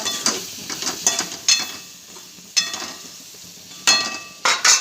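Chopped ridge gourd added to hot oil in a pan and stirred, with sizzling under a series of sharp, close metallic scrapes and clinks from the spatula at irregular intervals, no talking.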